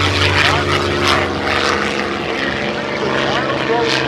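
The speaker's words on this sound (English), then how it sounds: "The Rolls-Royce Spitfire Mark 9." A Rolls-Royce-engined Supermarine Spitfire Mark IX roars past at an airshow with a loud, continuous propeller drone, heard alongside the voice of a public-address announcer.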